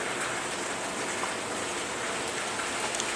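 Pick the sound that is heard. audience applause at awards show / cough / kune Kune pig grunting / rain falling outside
rain falling outside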